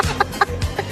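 A rooster clucks in short, sharp bursts, four quick clucks spaced in a choppy rhythm, close and fairly clear over a faint background.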